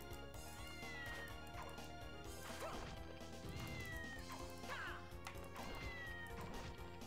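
Cat meows from the Castlevania Dominus Collection video game, several high, drawn-out in-game mews recurring over loud, continuous game music and sound effects.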